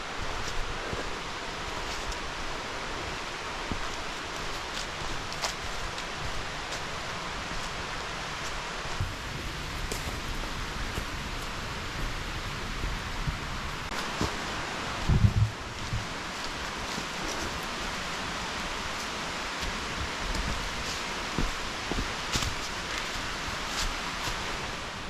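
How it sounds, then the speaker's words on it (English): Bearden Falls, an 80-foot waterfall in North Georgia, roars as a steady broadband rush of falling water, constant and enveloping for the whole stretch, with a brief thump midway and no talking. "I just want everyone to be able to hear the falls."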